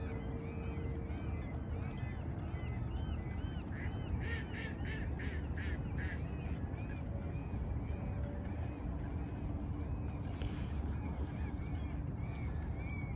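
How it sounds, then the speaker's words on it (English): Ducks or geese call out repeatedly over a constant noisy outdoor background, with a short burst of rapid honking in the middle. "You can hear the birds out here"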